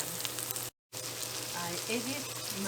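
Beans hitting a hot pan of garlic and onion, crackling and sizzling steadily with a brief dropout partway through, close and fairly loud, with faint scraping of stirring.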